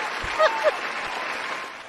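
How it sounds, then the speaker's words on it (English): Canned applause plays from a soundboard during an online Dungeons & Dragons session, a short, even wash of clapping with a brief cheer on top, fairly faint. "Wow, we have an applause soundboard sound now."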